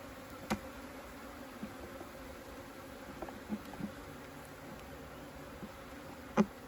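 Bees hum in a low, continuous drone throughout a hive inspection during a full colony transfer, with scattered faint clicks and one sharper tap near the end, no voices.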